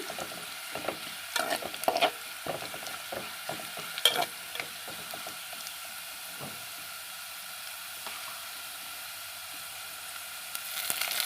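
Onions fry in a pan for masala gongura with a quiet sizzle, dotted with irregular crackles and scraping stirs, busier at first, then calmer before a few louder stirs at the end.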